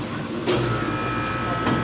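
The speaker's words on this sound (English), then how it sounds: "You hear the compressor coming on?" An ice cream machine's refrigeration compressor starts with a low mechanical hum and rattle that swells as it kicks on, with a steady whine and a second surge near the end.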